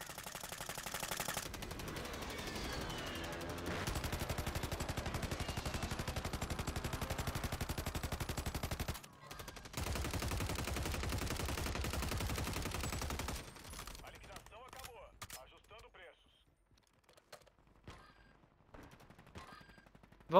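Rapid automatic gunfire fills a Call of Duty match, dense and continuous for most of the stretch before a brief gap, then thinning into scattered shots and quieter game sounds, while players talk over it.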